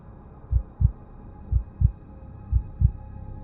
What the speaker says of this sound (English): I felt my heart beating harder than normal